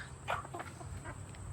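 Chickens and roosters on a farm in the rain, with a few soft, scattered clucks rising over a low background rumble, close but fairly quiet.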